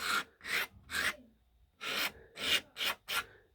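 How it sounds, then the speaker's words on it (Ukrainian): Sandpaper rubbed by hand over an MDF overlay: about seven short, raspy back-and-forth strokes, close and dry, with a pause in the middle of the sequence. "Ось наждачка я тру."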